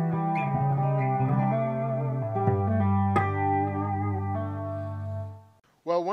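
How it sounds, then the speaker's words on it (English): A guitar amp plays sustained chords and notes through a chorus effect, with a shimmering, doubled tone that rings out steadily before fading, followed by a brief burst of strumming at the end. "And then the chorus."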